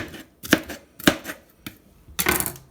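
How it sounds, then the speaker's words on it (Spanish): A knife chops red bell pepper into small pieces on a cutting board, four crisp, evenly spaced strokes close by, with no talking. "Así vamos a cortar todo el pimiento rojo."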